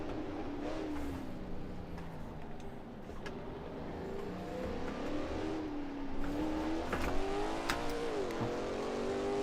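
A race car engine in the Assetto Corsa racing game drones steadily, with pitch shifts as the driver downshifts through paddle gears, the tone dipping and rising amid the rush of close racing traffic.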